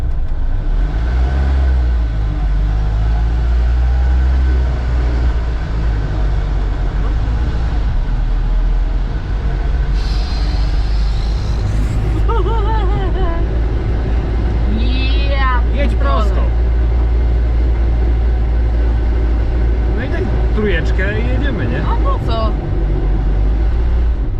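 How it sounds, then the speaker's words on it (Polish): An East German Wartburg 353 Tourist car gives a deep, continuous engine rumble as it pulls away slowly, loud and steady throughout, with people talking inside the car over it. "Puść powoli sprzęgło i gazu i jedziesz."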